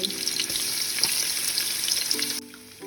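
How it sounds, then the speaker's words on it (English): Minced meat frying with grated garlic and onion, a close bright continuous sizzle with small crackles that drops off sharply near the end. "I'm going to add grated garlic and onion."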